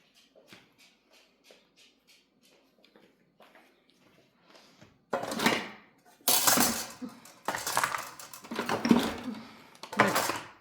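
Kitchen utensils being emptied out of a drawer organizer: light scattered clinks at first, then loud close bursts of metal cutlery and tools clattering and rattling together in repeated handfuls, with no talking.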